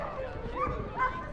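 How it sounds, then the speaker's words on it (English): Dogs yipping and barking briefly on a hiking trail near Cabo San Lucas, a couple of short, whiny barks close by while people talk. "Dogs are out."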